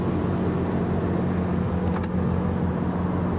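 A 10,000 kilowatt Onan Cummins quiet diesel generator runs on a Tiffin Phaeton 40AH motorhome. It gives a steady, loud, low engine drone that continues without change, with a brief faint click partway through.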